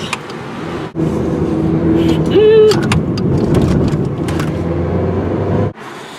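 A Ferrari sports car drives over a rough road, its engine a steady loud drone with bumps and rattles, a brief whine in the middle and cries of alarm over it, cutting off abruptly near the end.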